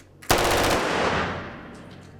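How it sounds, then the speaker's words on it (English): Automatic weapon fired during filming of a comedy series, a single short loud burst of rapid shots that cuts off and leaves a long reverberant decay, with no talk. "Firing an automatic weapon?"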